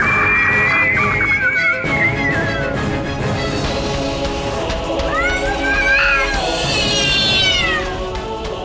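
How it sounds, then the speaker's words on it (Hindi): A cat wails in drawn-out, rising cries, repeated several times over a steady, busy background. "बिल्ली के रोने की आवाज।"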